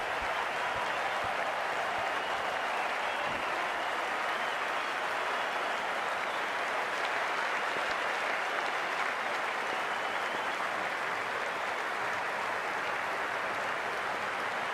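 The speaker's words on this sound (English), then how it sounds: "The crowd's built up nicely and is already making plenty of noise." A cricket crowd in a video game of a World Cup ODI match between India and West Indies cheers and applauds, producing a constant, loud, unbroken wash of clapping and crowd roar.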